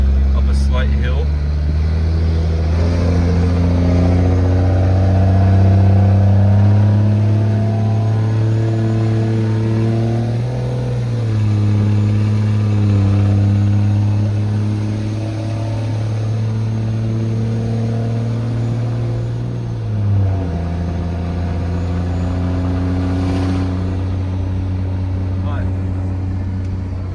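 A Cummins diesel pickup with a 2G turbo swap pulls up a slight hill, its engine note climbing steadily through the gears with two shifts, loud and close inside the cab, with talk over it.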